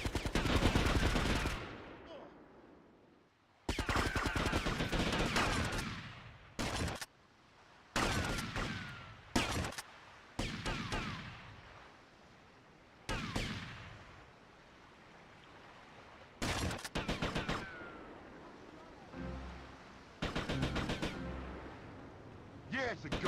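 Gunfire in GTA: Vice City Stories comes in loud, sharp bursts and rapid volleys, separated by short gaps and quieter stretches of game noise, with some rattling automatic fire toward the end.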